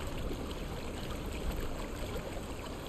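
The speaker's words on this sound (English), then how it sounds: "So many waterfalls." A waterfall pours continuously in the video game Conan Exiles, a dense, steady roar of rushing water that holds a constant level throughout with no talking.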